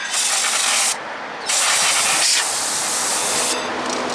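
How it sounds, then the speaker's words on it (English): Loud, steady aerosol hissing in long bursts as a 2015 Mazda3 rear brake rotor is sprayed, briefly stopping and starting again, close to the listener. "And then go ahead and spray your rotor down."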